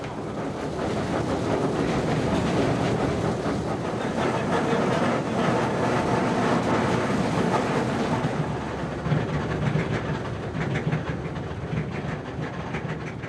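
An old train creeps along rails at about 10 km/h, producing a loud, dense rumbling and rattling roar with steady clattering throughout and no talk.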